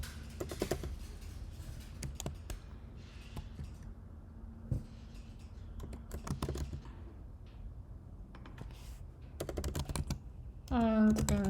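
Computer keyboard typing comes in bursts of quick clicks, moderately close, with pauses between runs, during a Next.js coding session.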